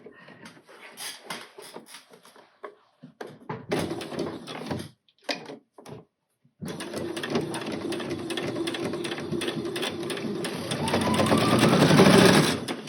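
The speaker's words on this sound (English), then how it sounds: "We're just sewing this shut." A sewing machine stitches fabric for an African dress, first in short stop-start bursts with pauses, then running steadily and loudly at close range for several seconds.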